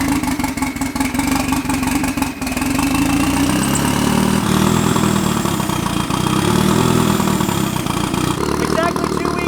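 A freshly rebuilt car engine fitted with both a turbocharger and a supercharger runs loud and steady at close range, holding a rough, continuous drone throughout with a slight shift partway.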